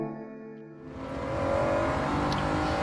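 Honda NSX in Gran Turismo at Interlagos, low in third gear and accelerating out of a corner: the engine tone climbs steadily and grows louder, smooth and continuous with no talk.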